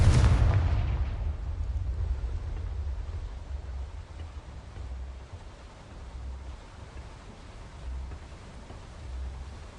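A Confringo fire spell explodes in Hogwarts Legacy on PS4: one loud burst at the start that fades into a long rumbling decay and low ambient hum.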